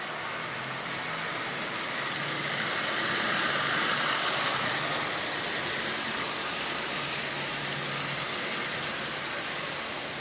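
A Lionel 8601 double-header pair of toy train locomotives runs steadily on track, a continuous close whirring and rumble of motors and wheels with no breaks.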